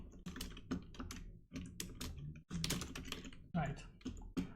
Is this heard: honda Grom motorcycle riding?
no